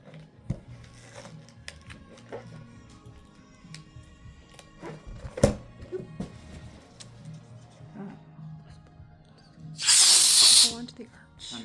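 An air compressor hissing as it inflates a balloon, heard as a loud burst of hiss lasting about a second near the end, after quieter handling sounds and talking.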